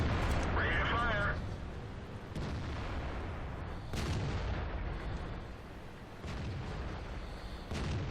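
Heavy tank cannon fire from the IS-3, IS-6 and KV-2 in World of Tanks, loud booming shots at intervals over constant battle rumble, with a voice speaking near the start.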